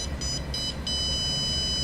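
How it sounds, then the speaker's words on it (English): Handheld barcode scanner wand emitting a series of short high electronic beeps, several quick pips then a longer sustained tone, close and fairly quiet. "their barcode is going to make a beeping sound"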